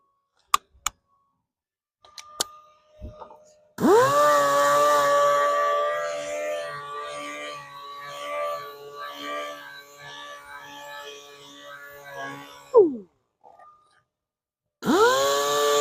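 A handheld sander with 320-grit paper works a curbed BMW X4 wheel rim, a steady whining motor tone running for about nine seconds between quiet pauses, starting and stopping abruptly.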